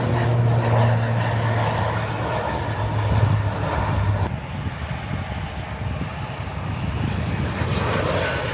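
A small propeller plane drones close by, its engine hum loud and steady before easing slightly as it passes and continues on.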